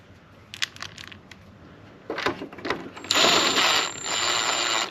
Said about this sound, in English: Swivel ratchet. I'm gonna get it started